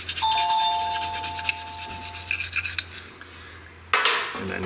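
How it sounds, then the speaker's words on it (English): A nylon brush scrubs the throttle body of a Jeep Compass in close, rapid rubbing strokes, with a few metallic dings and a sharper scrape near the end. "So we're just using a nylon brush."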